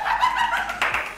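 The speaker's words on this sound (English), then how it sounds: "I love when he's clapping that fast" Fast, crisp hand clapping plays back from a BTS clip featuring two members, a quick run of sharp claps over roughly a second, with faint background sound behind it.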